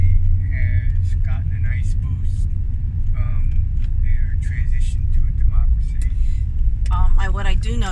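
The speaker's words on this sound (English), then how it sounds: "Now you see lots of cars and motorbikes." Street traffic of cars and motorbikes rumbles along a road in Mandalay, with a loud, continuous engine drone and passing vehicles. People talk over it, and a rising whistle-like tone sounds near the end.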